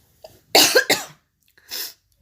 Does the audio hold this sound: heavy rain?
no